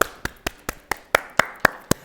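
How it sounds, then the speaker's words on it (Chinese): A single person claps nine times in a steady, evenly spaced rhythm, each sharp, close clap standing alone against near-silence. "鼓掌！"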